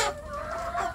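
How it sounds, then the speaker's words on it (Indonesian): Free-range village chickens cluck close by on a small farm at morning feeding time, one short, clear, throaty call lasting about a second. "sambil bersiap untuk memberi makan ayam kampung saya yang ada di kandang pembesaran"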